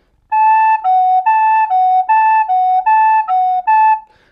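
A melody from the bridge of a song played on a wind instrument, nine clear, piping sustained notes in a steady phrase, close and loud with no talking.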